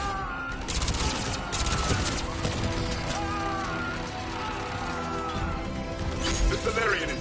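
Turret gunfire in a combat video game rattles in rapid bursts of sharp shots amid crashing impacts and other battle noise, close and busy, with voices shouting over the fighting.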